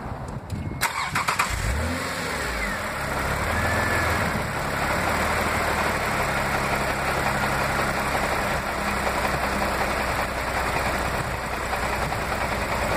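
A Toyota MR2 with a 2GR-FE V6 engine cranks with a sharp start near the beginning, then settles into a steady, close idle that hums on without anyone speaking.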